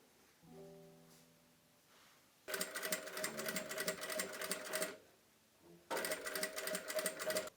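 A sewing machine stitches a zipper onto skirt seam allowances in two fast, rattling bursts a few seconds each, close and clear, after a brief faint hum and pause.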